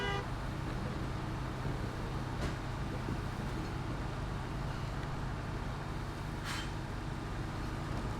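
A truck cab horn sounds in a snowy driving game, a low blaring honk heard against a constant rumbling engine and ambient noise.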